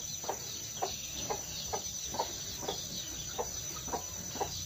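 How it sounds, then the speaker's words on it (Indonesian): A flock of quail clucking and calling, with short chirpy calls repeating at a steady rhythm over a constant background hum. "Ini dia, ada puluhan burung puyuh."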